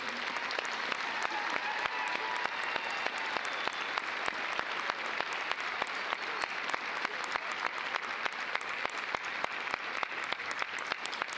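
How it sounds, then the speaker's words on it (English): A crowd gives a sustained round of applause for master's degree graduates at a university commencement. The clapping is dense and continuous, with crisp individual claps standing out throughout. "let's give these scholars one more round of applause for this."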